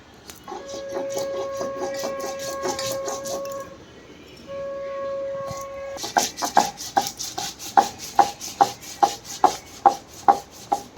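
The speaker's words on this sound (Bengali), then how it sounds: "সর্ষে নিয়ে নিলাম, সাদা সর্ষে আর কালো সর্ষে, এটাকে বেটে নেব।" White and black mustard seeds being ground into a paste, a steady rasping rub at first, then a run of sharp rhythmic knocks or strokes toward the end, close and fairly loud with no talk.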